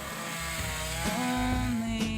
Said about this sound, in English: I wouldn't associate a chainsaw with somebody doing this intricate work